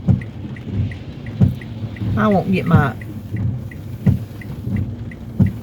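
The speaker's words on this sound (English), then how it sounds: "the rain is slacked up, but it is still lightning" Steady rain with rumbling thunder during a storm, heavy crashes of thunder recurring every second or so over the downpour while a person talks briefly in the middle.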